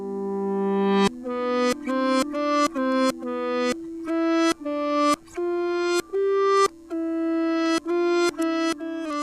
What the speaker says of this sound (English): there is a reversed guitar layer in it